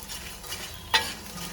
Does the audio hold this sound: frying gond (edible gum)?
yes